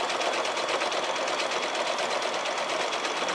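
A sewing machine runs a serpentine stitch through a scrappy string quilt, quilt-as-you-go style, giving a steady, continuous rapid whir that stays even and close for the whole stretch with no talking.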